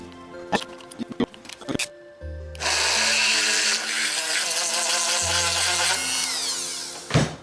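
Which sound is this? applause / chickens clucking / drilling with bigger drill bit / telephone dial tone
drilling with bigger drill bit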